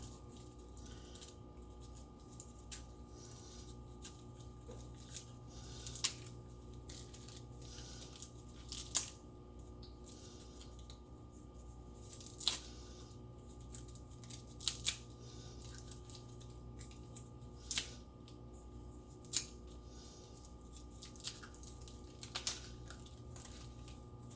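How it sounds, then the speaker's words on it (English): Scissors snip at the leafy top of a pineapple, quiet scattered cuts spaced irregularly over a low steady background hum, trimming it down toward the buds. "I'll be trimming it down until I see little buds"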